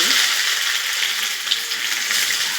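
Loud, hissing sizzle of chopped onion and curry leaves frying in hot oil with mustard seeds, a dense continuous crackle close by with no talking.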